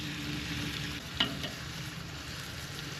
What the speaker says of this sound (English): Just sopping up some of that butter, kind of help toast this a little bit.